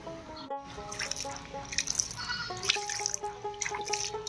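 Water poured onto crushed, powdered clay to mix it for a portable mud oven; light dripping and trickling sounds play close by against steady background tones.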